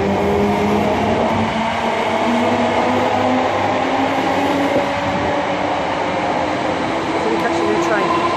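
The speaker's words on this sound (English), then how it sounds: "There's a new train on the other side." A London Underground Jubilee line train rumbles steadily and loudly throughout, a continuous broadband roar with faint rail clatter and no clear talk.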